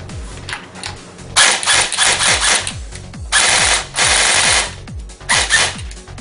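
A LiPo-powered airsoft gun fires in rapid automatic bursts, each a loud, snappy mechanical chatter, several bursts separated by short pauses with no voices.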